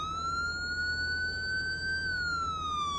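A police siren in wail mode, one of the new emergency-vehicle sirens in a police update, rises slowly and then falls in a long, steady, loud tone that plays alone over a low rumble.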